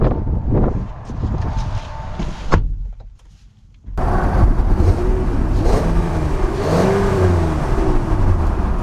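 A 2024 Honda Passport EX-L SUV being driven, heard from inside: a thump like a door closing, a short quiet gap, then a steady engine drone with rising revs and road noise as it pulls away.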